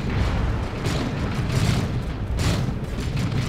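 Lascannon fire and heavy booming impacts from a Dawn of War 2: Retribution multiplayer battle form a thick, continuous low roar with several sharper bursts cutting through.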